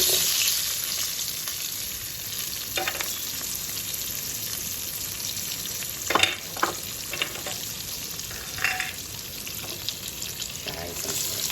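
Green pepper sizzles steadily in a hot pan for a Valentine's Day breakfast, a continuous bright frying hiss with a few louder crackles and stirring scrapes partway through, heard alone.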